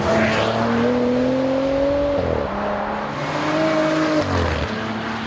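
A Maserati Ghibli sports sedan's petrol engine revs steadily and close by, its pitch rising and dipping through gear changes, with no talking over it.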